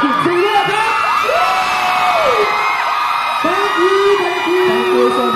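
Concert fans at a pop group's live party show scream and cheer loudly together, a continuous chorus of high shrieks and whoops rising and falling in waves from a large, close crowd.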